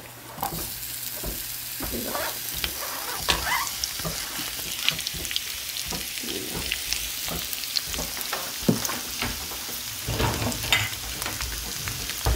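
Onions fry in a pan with a steady crackling sizzle, dense with small pops and stirring clatter, close and fairly loud, with no talking.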